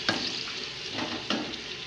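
Onions sizzle in a pan with a cup of hot oil, a steady crackling hiss close by with a few sharper bursts as they are stirred, no voices.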